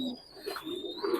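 Soft, murmuring coos come from Pakistani highflyer pigeons in a loft, a few low rolling calls heard close by in a short moment.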